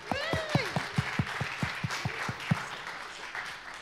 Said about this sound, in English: Come on, round of applause for us.